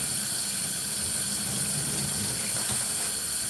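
Water runs steadily from a tap at a sink during washing, a continuous close hiss that holds without a break throughout.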